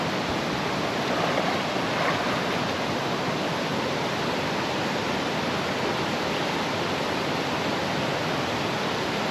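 Water of a natural pool in a stream rushes in a steady, broad, close wash of noise with no voices, continuous and even throughout.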